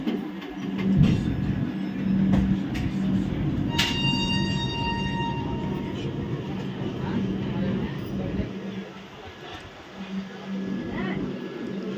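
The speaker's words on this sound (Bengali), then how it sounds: "ট্রেন ছেড়ে দিয়েছে" A passenger train on the Howrah to Haridwar route pulls away and rolls along the rails, with a steady, close rumble and clatter lasting throughout, a brief whistle-like tone partway through, and voices talking underneath.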